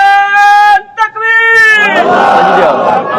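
A single loud, amplified voice calls out a drawn slogan at a religious gathering led by a cleric. A massed crowd then bursts into a loud, sustained collective shout that carries on to the end.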